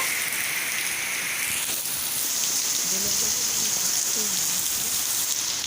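Heavy rain pours steadily outside a house, a dense, even hiss of drops hitting surfaces that stays loud and constant throughout, with a few faint low voices murmuring underneath.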